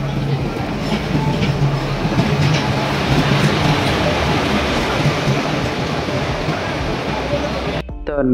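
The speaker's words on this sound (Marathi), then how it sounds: "मित्रांनो, आपली ट्रेन आलेली आहे।" Koyna Express train pulling into Miraj railway station, a loud, continuous rumble and rattle of carriages rolling past close by, with a brief higher squeal near the end.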